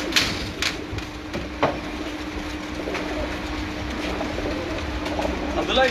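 Pigeons coo softly and flutter close by against a constant background hum, with a few sharp knocks and some faint talk.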